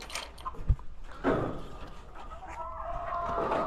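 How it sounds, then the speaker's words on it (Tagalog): Backyard chickens clucking in a Philippine coop, a few short calls near and faint over a steady rural background, with one brief louder knock partway through. "Ayan yung mga manok ko."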